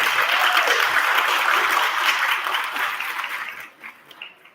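An audience at the Mister and Miss Cheyney coronation applauds itself: a full, lively burst of clapping that holds steady, then thins and fades out over the last second.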